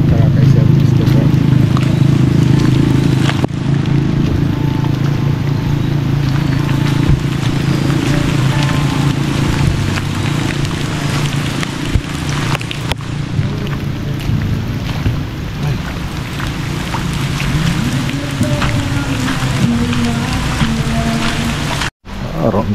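Steady rain falls outdoors at a house project site in Laoac, Pangasinan, a dense continuous patter with some wind through the whole stretch, briefly cut off near the end; people can be heard talking over it.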